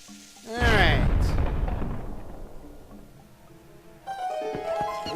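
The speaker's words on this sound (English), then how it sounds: "right behind the bombling is a wall we can blow up" A bombling blows up a wall in the video game The Legend of Zelda: Twilight Princess: one loud, booming blast with a long rumbling decay, followed by a bright chiming musical cue.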